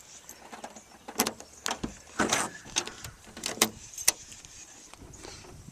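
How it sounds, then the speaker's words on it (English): Trunk of a 1962 Ford Galaxie 500 being opened, with a series of close, sharp metallic clicks, clunks and rattles spread across several seconds and no talking. "See if I can get the trunk opened here."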